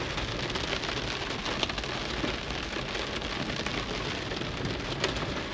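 Heavy hail and rain pound steadily on a Lexus GX470 during an outdoor storm, a dense, loud, continuous drumming with a few sharper impacts standing out, and no voices.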